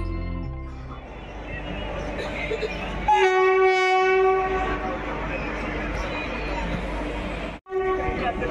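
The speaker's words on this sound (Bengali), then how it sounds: "আমাদের ট্রেন এসে পৌঁছালো ওন্দা স্টেশনে" A local train on the Bankura–Howrah line via Masagram pulls into Onda station, with a steady rumble of rolling stock and a loud sustained horn blast partway through, heard from on board.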